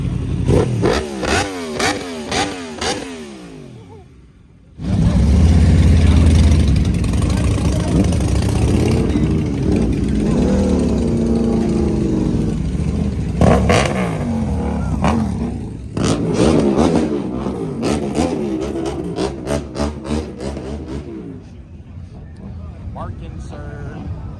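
A motorcycle at a Sacramento bike night, a 600cc sport bike, idling with a lumpy pulse, then revving hard into a loud sustained roar and falling back to idle with crackling pops, close by, with people talking over it.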